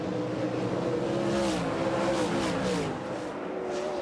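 World of Outlaws sprint cars race at Bristol, their engines roaring loud and close. The pitch rises and falls in overlapping waves as the cars accelerate and pass, with no voices.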